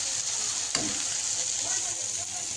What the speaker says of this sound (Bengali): একটু আলু ভাজবো আর বেগুন ভাজাটা বসে দিয়েছে